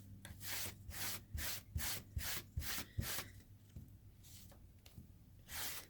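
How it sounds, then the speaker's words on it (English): Steel wool rubbed over an aluminum sheet for a brushed finish, in a series of quick rhythmic scrubbing strokes, close and fairly quiet. "I am going to take a steel wool and just go over it a couple of times."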